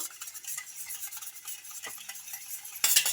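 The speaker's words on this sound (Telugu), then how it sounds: "ఈ ఎగ్ వైట్నైతే ఇక్కడ చూపిస్తున్న విధంగా బాగా కలిపేసుకోవాలి" Egg white being stirred into milk with a utensil, a quick, faint rhythmic swishing and scraping in a bowl with a sharper clink near the end, no talk.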